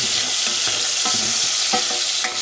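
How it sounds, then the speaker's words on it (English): Wet-cured bacon sizzles and crackles in a hot pan, a steady bright hiss with small pops and occasional stirring scrapes, close up. "So I'll just keep frying these until they go a little bit colour."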